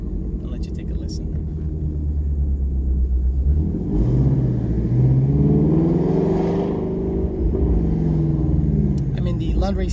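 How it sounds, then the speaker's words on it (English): A Ford Mustang GT350 sleeper with an open exhaust, running on E85 at a racing shop, idles with a deep rumble and then revs up and falls back in a rising and falling roar, close and loud, with someone talking at the start. "Listen as to what this car reminds you of when it gets up on the revs."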